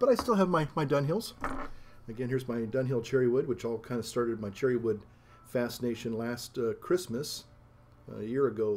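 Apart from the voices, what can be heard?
None of the usual background noises is heard.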